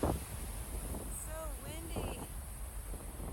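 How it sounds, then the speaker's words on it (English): Wind gusts buffet the microphone at a hazy mountain lookout on a long-distance trail hike, a steady rushing noise with brief voices and faint tonal calls within it. "windy."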